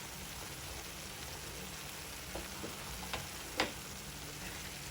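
Cauliflower masala curry with chopped coriander stirred in a pan, a faint even sizzle with a few soft scraping taps of the spoon, the last one sharper and nearer.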